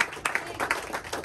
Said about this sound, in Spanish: Denle una ofrenda de palmas al Señor de los cielos